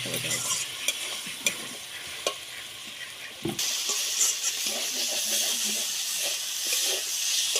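Potatoes and spices cook down in a pan with a splash of water, giving a steady hiss and sizzle with scattered stirring knocks, then a louder, steamier surge of frying noise partway through.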